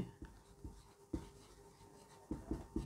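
Pen strokes scratch on paper as numbers are written out while working a speed and distance math problem, several short, quiet bursts of scribbling separated by pauses.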